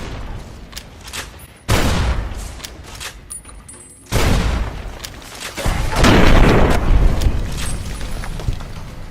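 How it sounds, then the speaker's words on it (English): An anti-material rifle fires at Deathclaws in Fallout New Vegas. Heavy, booming shots ring out a few seconds apart, and each blast leaves a long rumbling tail, with the last stretch denser and louder. "the anti-material rifle is good for taking them out at a closer range and being more precise with"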